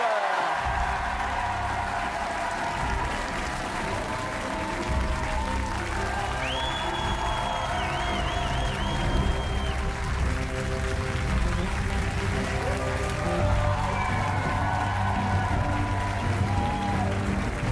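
An audience greets author George R.R. Martin with applause at a French interview event. The clapping is dense and steady for the whole stretch, loud and sustained, with faint tonal sounds underneath and no talking.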